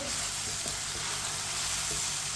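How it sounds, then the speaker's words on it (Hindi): Ground red chilli, turmeric and salt frying in a pan for chicken macaroni, mixed on low heat: a dense, even sizzle with soft scraping stirs, close and continuous. "मसालों को मिक्स करके 1 मिनट के लिए पका लेंगे।"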